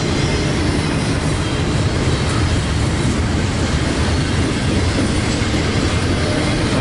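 A freight train carrying auto racks rolls steadily past up close, a loud continuous rumble with clickety-clack from the wheels on the rails and a faint squeal, with no talking.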